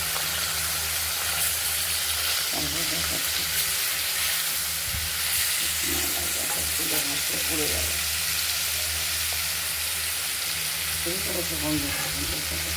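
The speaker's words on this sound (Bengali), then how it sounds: "হালকা লাল করে ভেজে নেব" Rohu fish pieces rubbed with turmeric and salt fry in a wok with a continuous loud hiss and crackle, broken by occasional stirring scrapes.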